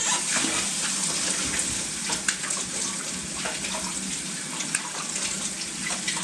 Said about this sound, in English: We go wash the jelly off my hands here